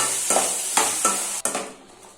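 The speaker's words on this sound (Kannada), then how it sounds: "ಸ್ವಲ್ಪ ಫ್ರೈ ಆಗಲಿ" Jackfruit seed and banana curry frying in a pan with ginger, a steady sizzle broken by about four sharp stirring scrapes, close and fairly loud, no voices.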